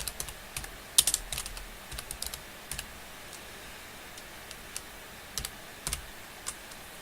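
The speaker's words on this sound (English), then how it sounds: "type, comma, quotation mark, invalid rating, quotation mark, close parenthesis in the formula bar" Someone types a formula on a computer keyboard in Excel's formula bar, producing close, crisp, irregular keystroke clicks in short clusters against a quiet background with no voices.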